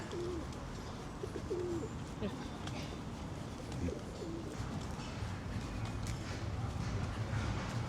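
Pigeons coo softly in a few low, throaty phrases amid the general street bustle of Kraków Old Town, with faint background voices and footsteps around them.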